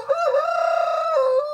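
A rooster crows once, loud and close, in a single sustained cock-a-doodle-doo call at a home yard in the evening, heard alone with no talk.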